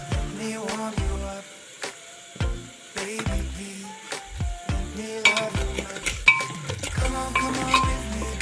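Onion tadka frying in a pan in a home kitchen, a soft sizzle under repeated sharp spoon clinks and stirring scrapes against the metal, irregular and close, with faint music underneath.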